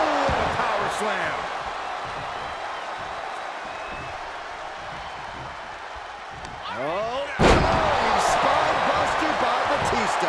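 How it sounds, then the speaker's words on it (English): A wrestler power-slams an opponent onto the mat in the video game WWE2K23, Batista against Kenny Omega, a sharp loud impact near the end over a steady roaring arena crowd with commentary talk throughout. "what a power slam"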